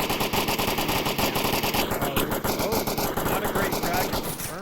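Dense, continuous automatic gunfire from the VR shooter Onward during a competitive Ember vs Insurgents match, loud rapid bursts overlapping throughout with a faint voice underneath.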